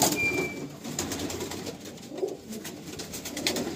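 Tournament-quality pigeons in a loft coo softly and repeatedly, with low rolling calls over a constant faint background hum and no voices.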